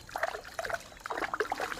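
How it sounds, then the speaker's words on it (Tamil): Water splashing and trickling over a stone grinding mortar as it is washed, light irregular splashes and dribbles heard close up, with no voices. "உரலை நல்லா சுத்தமாக கழுவிக்கலாம்"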